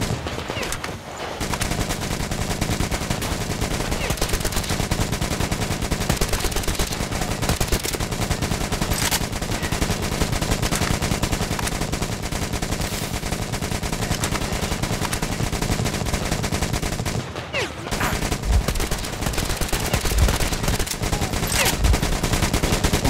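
Sustained loud gunfire in the first-person shooter Metro Exodus, dense machine-gun bursts with almost no break, close and dominant across the whole stretch, with only brief pauses near the start and end.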